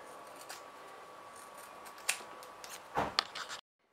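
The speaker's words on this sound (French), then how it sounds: "je vais découper le surplus de tissu dans mon arrondi" Scissors trim surplus fabric along a curved edge for a belt bag, giving a few soft close snips and rasps, with a sharper double crunch of blades near the end before silence.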